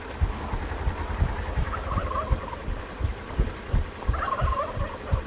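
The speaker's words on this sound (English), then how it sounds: "damn turkeys are on the way" Wild turkeys gobble in bursts of rapid warbling calls, fairly faint and partly distant, over a busy background of repeated thumping knocks.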